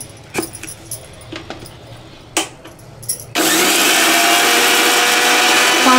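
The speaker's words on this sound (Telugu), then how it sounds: "కరివేపాకు ఆకులు, నాలుగు పచ్చిమిర్చి, కొద్దిగా ఉప్పు వేసి మిక్సీ పట్టుకోవాలి" Curry leaves, green chillies and salt go into an electric mixer grinder, first with a few light clinks and knocks as it is loaded, then a loud, steady motor whir that starts abruptly and runs on close by.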